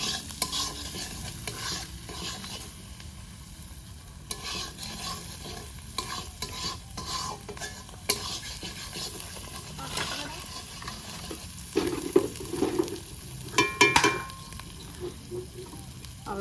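Masala spices being stirred and fried in oil for a desi-style pork curry, a spoon scraping the pan repeatedly over a continuous sizzle, close and busy, with a few louder clatters.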